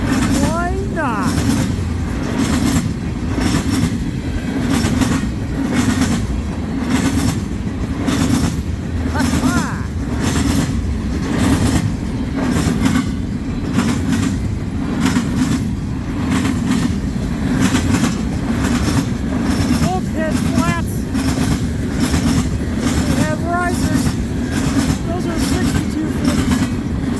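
A CN freight train rolls past at Ladysmith with its end-of-train device, a loud steady rumble and clickety-clack of wagons over the rails lasting throughout, with someone talking now and then over it.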